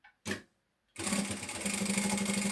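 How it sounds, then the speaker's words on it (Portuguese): A sewing machine stitches a seam along a shoulder bag's inner pocket, starting after a brief sound and pause, then running in a fast, steady mechanical whir close by. "Vou passar uma costura aqui em baixo para segurar primeiro"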